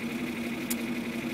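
A John Deere 3140 tractor engine idles steadily while warming up after a cold start, a low, even hum with a faint high-pitched whine and no revving.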